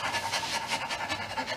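A foley artist imitates a dog's panting by voice, a steady run of quick breathy huffs that stays fairly soft and even, as if the animal is still some way off and drawing nearer.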